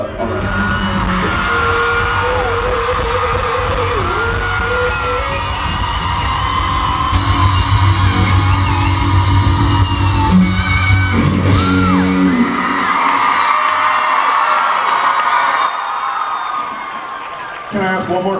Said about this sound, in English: We all are screaming.